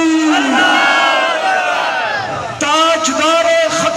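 A large crowd roars a loud, massed chant in answer to the Takbir slogan, many voices rising together in a long sustained shout, then a second swell of voices starts abruptly.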